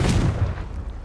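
A fiery Confringo spell blast bursts out in Hogwarts Legacy, a single deep boom that rumbles and fades over about a second.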